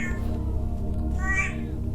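A cat at an abandoned motel lets out a couple of close, drawn-out meows over a low background hum.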